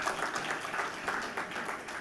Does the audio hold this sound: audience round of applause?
yes